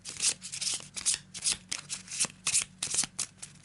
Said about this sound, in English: Give him a shuffle.